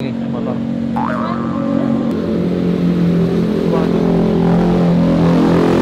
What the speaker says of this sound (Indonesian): Ini berisik banget nih motor.